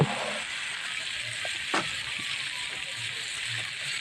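Diced cauliflower and potato go into hot oil over fried onions and spices, giving a steady close hiss and sizzle with a brief clatter as the vegetables drop in.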